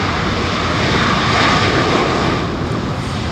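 An airliner landing at London Heathrow Airport makes a loud, close, continuous engine roar that swells slightly in the middle and stays dense throughout, with no talking.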